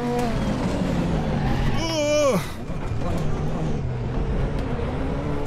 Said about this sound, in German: Wie krass man die Corvette hört, ne?